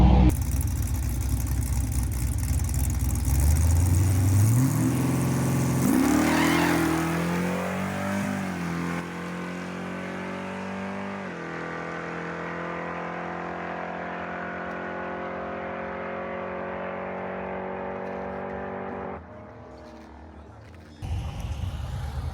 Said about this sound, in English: It spun the tires, and then it hooked, so it picked the tires up a little bit.